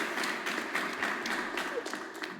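A burst of applause sound effect plays during a French Star Wars Unlimited card game showcase, a light, steady patter of many claps at moderate level throughout the short moment.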